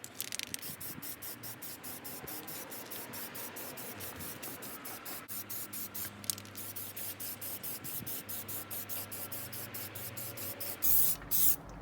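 Aerosol spray can laying a third coat of paint on the fog light surround of a Fiesta ST180, steady hissing bursts repeating in quick pulses, close and fairly loud, with a few louder sprays near the end.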